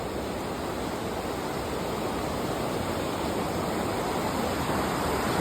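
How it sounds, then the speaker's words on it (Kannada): Durga Falls near Tellar, Karkala, roars as a dense, steady rush of falling water, loud and continuous with no voices, early in the rainy season. "ಇಲ್ಲಿ ಮೇಲೆ ನಿಂತು ದುರ್ಗಾ ಫಾಲ್ಸ್ ಈ ಕಡೆ ಬರುವುದನ್ನು ನಾವು ಕಾಣಬಹುದು"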